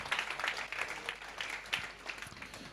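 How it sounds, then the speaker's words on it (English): A small audience at a startup pitch event applauds the Bukapeo team, giving brisk, scattered clapping that sounds fairly quiet and distant. "A warm round of applause for the Bukapeo team."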